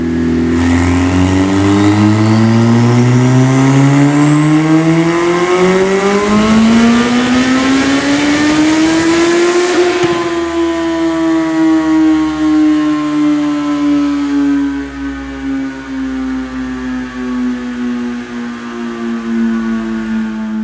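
A turbocharged Suzuki Hayabusa motorcycle screams on a dynamometer, its engine climbing in a long, loud rising pull for about ten seconds, then easing off and settling into a steady, high-pitched drone that continues close and unbroken.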